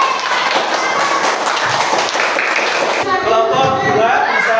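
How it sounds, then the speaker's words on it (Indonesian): A classroom group applauds together, a dense, steady patter of many hands clapping at close range that keeps going throughout, with a brief shift in texture near the end. "Kita kasih tepuk tangan yang meriah untuk kelompok 1"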